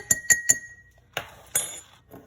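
A small drinking glass clinks three times in quick ringing succession, then a few duller knocks follow as butter is dropped in, close and fairly loud with no talk.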